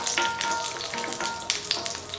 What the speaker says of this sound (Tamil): 5 முந்திரி பருப்பை சேர்த்துடலாம்